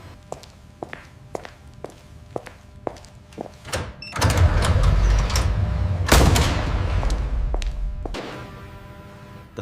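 A UMP9 submachine gun is proof-fired in an underground test range: a run of sharp, light clicks and footsteps, then two heavy, booming shots that ring out and decay slowly in the enclosed space.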